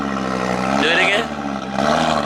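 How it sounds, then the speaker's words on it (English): Twin-turbo BMW 550i fitted with new downpipes revs up, its engine rising and falling in a loud, close drone, with people talking over it. "You can hear the turbos."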